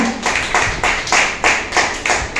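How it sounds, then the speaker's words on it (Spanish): A church congregation claps together in a strong, steady rhythm, loud and close, with evenly spaced beats about every half second. "Denle un fuerte aplauso al Señor."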